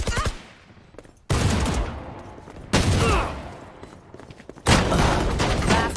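Gunfire in the Valorant video game: loud bursts of rapid shots and blasts break in abruptly several times, separated by quieter gaps with faint background sound.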